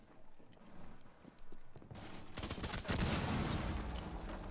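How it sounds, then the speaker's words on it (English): Gunfire rings out in the Rainbow Six video game as a player shoots at a wall. After a quieter start, a dense, rapid run of shots fills the second half of the clip. "Ignore my shots, I'm shooting at a wall"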